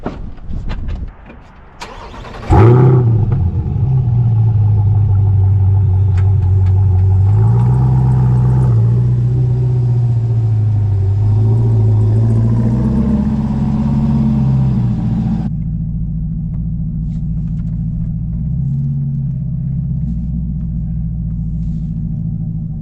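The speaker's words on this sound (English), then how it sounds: "I'm going to back my car up in here real quick" A car engine cranks and fires up close by, then settles into a loud, steady idle and low rumble as the car is backed up and driven, with the pitch shifting a little as it moves.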